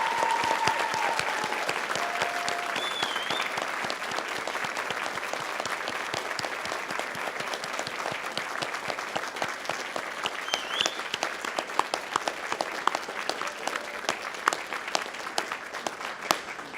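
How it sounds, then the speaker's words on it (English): Graduates at a Dalhousie University spring convocation, Faculty of Science, cheer and applaud; dense sustained clapping from a large crowd fills the hall for the whole stretch, with occasional whoops rising above it. "Now it's your turn to honor them with your cheers and applause."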